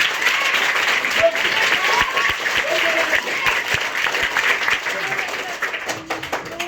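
A room full of people claps enthusiastically and continuously, with a few voices calling out beneath the dense applause.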